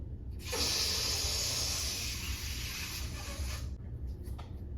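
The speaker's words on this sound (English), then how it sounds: "Now I'm going to release some air from this balloon." Air hisses steadily out of a party balloon as it is let go for a centerpiece, a loud, continuous rush lasting about three seconds before cutting off, with no talking.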